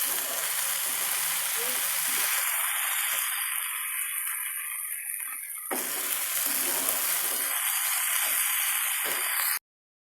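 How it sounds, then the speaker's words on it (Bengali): Okra (bhindi) frying in a pan while being stirred, a steady close sizzle with scraping movement throughout that cuts off abruptly near the end. "এবার ভেন্ডিগুলোকে ভালোভাবে নাড়াচাড়া করে দেব।"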